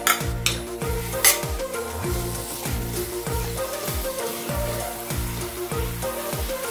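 Melted jaggery and grated coconut cook in a pan for sweet poha, stirred in a steady, repeated scraping rhythm over a soft sizzle, with a few sharp clinks at the start.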